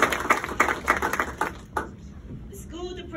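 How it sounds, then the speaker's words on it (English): Audience applause breaks out at a Virginia Legislative Black Caucus press conference: a short burst of rhythmic clapping that fades within seconds as a voice resumes speaking. "I think that needs an applause."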